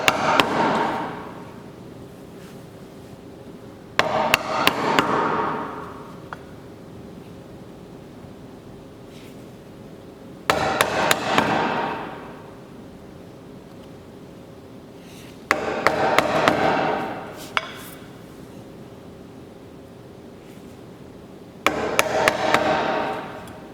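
A hammer strikes a chisel to cut a pocket in wood, coming in five separate bursts of several sharp, close knocks each, spaced a few seconds apart against a quiet background.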